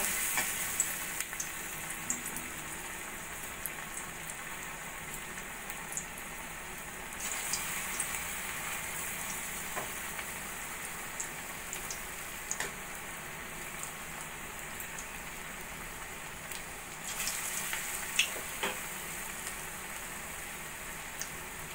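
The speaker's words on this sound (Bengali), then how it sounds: "এবার আমি ছোট ছোট করে পুঁই পাতা বড়াগুলো ভেজে নেব। একদম লো ফ্লেমে বড়াগুলো ভেজে নেব।" Small Malabar spinach (pui) leaf fritters frying in hot oil in a karahi over a low flame, a steady close sizzle that runs throughout with brief louder crackling bursts.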